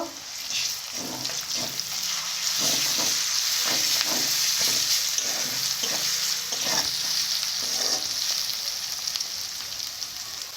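Meat frying in a pan for a Bengali meat curry, sizzling steadily and loudly with repeated stirring scrapes in a regular rhythm, close by with no talking.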